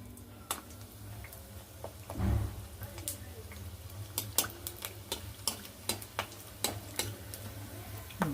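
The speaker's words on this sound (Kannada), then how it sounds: "ಇಲ್ಲೇ ಎಣ್ಣೆ ಕಾದಲ್ಲ ಸಂಡಿಗೆ ಹಾಕೋಣ ಈಗ" Sandige fryums frying in hot oil give off a steady crackle with scattered sharp pops and ticks, plus a brief low thump near the start, close and moderately quiet.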